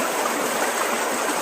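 A stream rushing past a landslide with fallen bamboo in the countryside, a steady, dense broadband water roar that stays even and close throughout with no voices.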